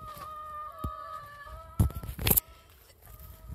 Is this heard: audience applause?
no